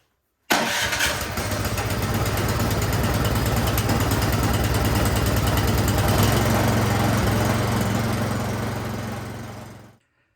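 A snowblower's small engine, its carburetor jets gunked up with old gas, fires up abruptly and runs with a steady, loud chugging rattle close by, then cuts off at the end.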